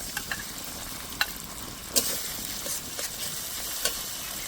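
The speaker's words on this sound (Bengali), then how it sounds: "এখন দিয়ে দেবো মশলা। দিয়ে দেবো আদা বাটা, জিরে বাটা, শুকনো লঙ্কা বাটা" Onions with ginger, cumin and dried chili pastes fry and sizzle steadily in a pan for a Bengali rohu fish curry, with a few sharp scrapes and clinks of a stirring spoon.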